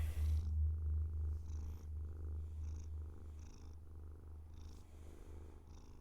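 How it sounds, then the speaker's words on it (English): A cat purring close to the microphone while being cuddled, a deep, steady rumbling purr in rhythmic pulses, soft and intimate, with faint higher sounds over it. "You can hear her purring."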